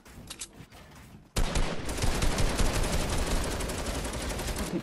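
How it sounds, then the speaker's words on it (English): Sustained LMG machine-gun fire in Fortnite, a dense continuous burst starting abruptly after a quieter patter of distant shots, loud and close throughout with no talk. "Fucking LMG, boy"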